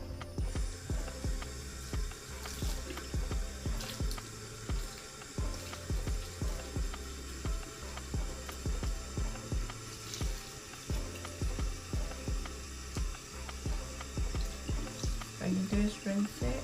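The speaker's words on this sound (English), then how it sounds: "So what I do is put it under the running water." Tap water running over makeup brushes in a sink, a steady splashing stream with rhythmic clicking and knocking handling noises close by, a faint voice now and then underneath.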